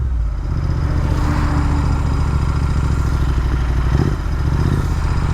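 Royal Enfield Interceptor 650 twin with a Red Rooster performance exhaust, loud and close, a steady throaty idle with a deep pulsing rumble and a short blip of throttle near the end.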